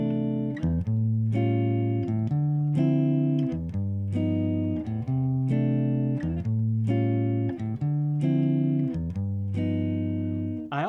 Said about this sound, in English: So I end up with a progression that sounds like this.